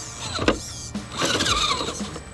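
Whining electric servo on a modified RGT EX86110 Pioneer RC crawler truck, a close, thin motor whir rising and falling in a few short bursts with brief pauses, no talking.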